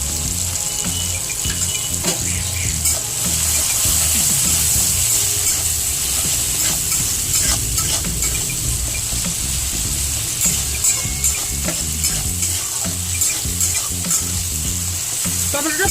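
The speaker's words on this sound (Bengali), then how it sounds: "টমেটোটা ভাজা ভাজা হয়েছে।" Chopped tomato fries in a pan with salt while being stirred, a loud steady sizzle broken by repeated scraping and clinking strokes of the spatula, close up with no talking.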